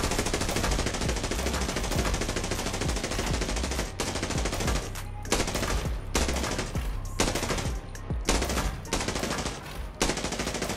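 Sustained automatic fire from an M4A1 rifle in the video game Arena Breakout, long loud sprays of rapid shots with only brief gaps between bursts.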